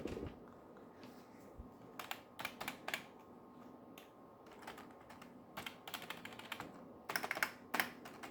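Typing on a computer keyboard plugged into the back of a PC: scattered bursts of crisp key clicks, close and fairly quiet, with short pauses between flurries and no talking.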